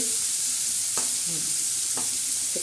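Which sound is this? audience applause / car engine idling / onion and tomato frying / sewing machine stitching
onion and tomato frying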